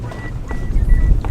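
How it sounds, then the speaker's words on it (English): Steady wind buffeting the microphone in the Arizona desert on a mule deer hunt, a low rumbling roar with gusty swells, no talking. "It's windy today."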